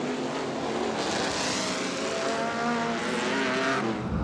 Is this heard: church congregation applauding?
no